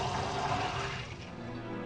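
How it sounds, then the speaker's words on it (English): A toilet flushes in the Resident Evil video game, a steady rushing wash of water that holds for about two seconds and thins slightly toward the end, with no talking. "I hear a toilet flushing"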